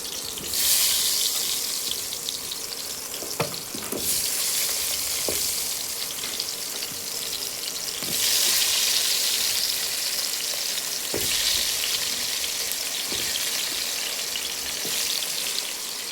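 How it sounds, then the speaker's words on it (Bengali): Potatoes frying in hot oil give a loud, continuous hissing sizzle with waves of bubbling intensity and occasional sharp knocks of a utensil against the pan, close up, with no voices. "আলুগুলো ছেড়ে দিলাম, এবার এইটাকে একটুখানি ভেজে নিই।"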